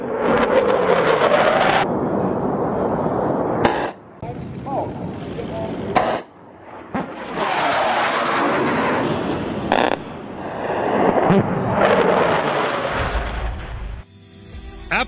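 M61A2 Vulcan rotary cannon on a fighter jet firing long, loud buzzing bursts at a very high rate, several sustained volleys separated by short pauses, with jet engine roar in between.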